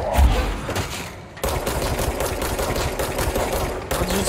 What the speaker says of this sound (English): I'll just keep shooting, hope to get a critical.